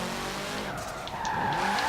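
Tire squeal from a 1990 Subaru RS drifting in the racing game Forza Horizon 4: a steady engine drone with a thin, wavering screech of rubber rising over it, continuous and moderately loud.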